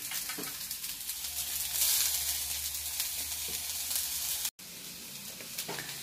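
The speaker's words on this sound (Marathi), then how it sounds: "कांदा लाल होत आला आहे, त्यात आता भाजी टाकणे चिगळाची." Chopped ghol leaf greens drop into onions frying in oil in a pan, a steady close hiss and sizzle with light stirring, briefly cut to silence before the sizzle resumes.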